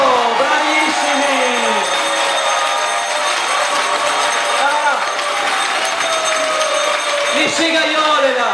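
A festival crowd at a Palio prize-giving applauds and cheers for the third-place district, dense sustained clapping and voices at a steady loud level throughout.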